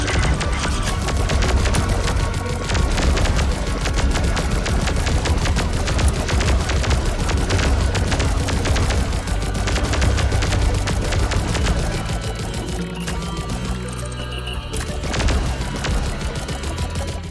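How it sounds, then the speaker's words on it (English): Enemies fire projectiles in the video game Cuboid Keeper, a dense, continuous barrage of rapid gunfire-like shots and booms layered over game music, steady and loud throughout with a slight drop near the end. "these are the new enemy types that can fire projectiles at me"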